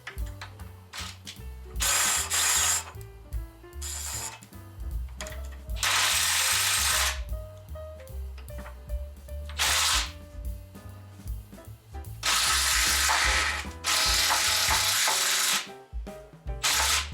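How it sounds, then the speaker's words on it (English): A bearing press tool pushes a bushing into a Porsche Macan subframe, with bursts of ratcheting, clicking mechanical cranking alternating with quieter pauses, close and fairly loud. "To solve the issue, I'm using the bearing press tool to push the bushing inward."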